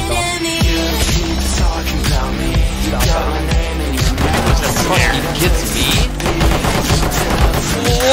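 Loud gunfire in the video game Rainbow Six Siege rattles in rapid automatic bursts and dense volleys, with game music or ambience running underneath throughout.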